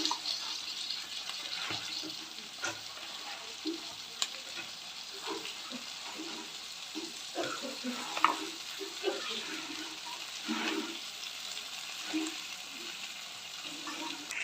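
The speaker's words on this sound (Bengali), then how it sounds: "মশলা কষানো হয়ে যাওয়ার পর এখন চিকেনটা দেওয়া হচ্ছে" Chicken pieces fry in spiced pickle-style masala for achari chicken, a continuous soft sizzle with scattered bursts of louder spattering and stirring scrapes, close by.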